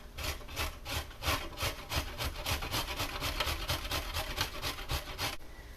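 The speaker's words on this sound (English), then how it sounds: "I'm also going to grate this carrot" A carrot is rubbed against a grater in quick, even strokes, a close, rhythmic scraping that repeats steadily about three times a second with no talking.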